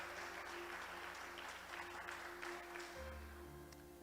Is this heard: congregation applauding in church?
yes